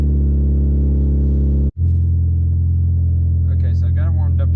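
A Mitsubishi Evo engine held at steady revs with the throttle pressed, a loud close droning rumble that briefly cuts out, then resumes at a lower idle-like hum as a voice starts talking.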